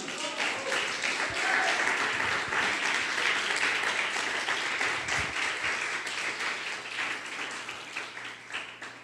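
A church congregation claps in a sustained, dense wash of applause that slowly thins out toward the end, with a few murmured voices underneath.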